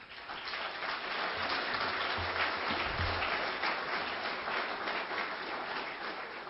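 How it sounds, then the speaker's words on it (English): Steady audience applause fills a presentation event, a dense wash of many hands clapping at even loudness throughout with no voices over it. "So let's give them a round of applause."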